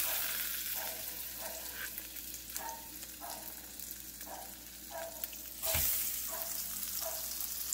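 Pork chops frying in a pan on medium-low heat, a soft steady sizzle with gentle rhythmic stirring or scraping and a brief louder burst near the end, no talking.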